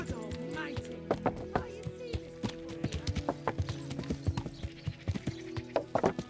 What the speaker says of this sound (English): Stay away from people if you can't ride a horse